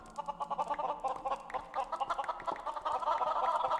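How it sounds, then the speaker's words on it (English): Loud chickens in a modded Minecraft game cluck in rapid, repeated bursts, a dense flock-like chatter that keeps going and grows slightly louder toward the end, with no talking over it. "The loud chickens."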